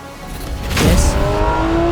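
Track-prepped Porsche GT3 RS engine rising in pitch as it accelerates on a scenic North American road, loud and close, then settling into a steady high drone with no voices.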